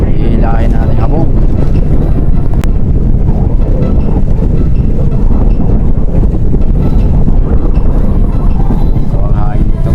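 Strong wind at sea on a fishing boat, a steady loud roar and buffeting of the microphone throughout, with a voice speaking faintly under it.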